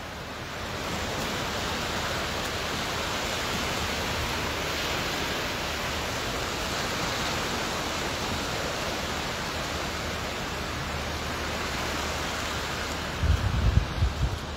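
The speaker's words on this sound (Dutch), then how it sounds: "de golven hun ding laten doen." Sea waves at the Ostend seaside wash in a continuous, full roar of surf, steady and enveloping throughout, with a brief gusty rumble near the end.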